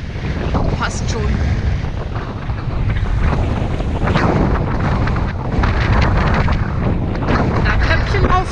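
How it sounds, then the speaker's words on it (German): Strong storm wind sweeps the shore of Lake Neuchâtel in a loud, continuous roar that buffets the microphone throughout, with no letup or pause. "Der Wind kommt ja von der Seite hier"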